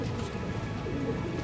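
Pigeons coo softly and continuously in a Tondo pigeon loft, a low murmuring burble held steady over the brief moment without any speech.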